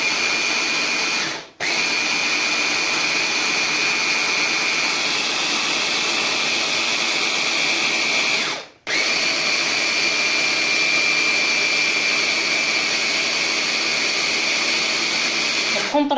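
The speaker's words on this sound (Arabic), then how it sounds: "كنديرو جميع المكونات في الشراب" Blender running steadily and loudly, mixing milk with chocolate sauce ingredients, with two brief pauses where the motor stops and restarts; no voices.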